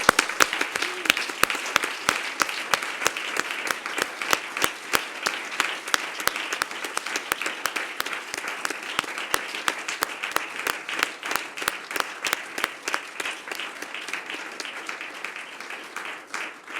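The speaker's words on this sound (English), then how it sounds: "they deserve a round of applause." Sustained applause from the audience at a European university rectors' assembly marking Europe Day, crisp individual claps merging into a steady, moderately distant round that carries on for well over fifteen seconds.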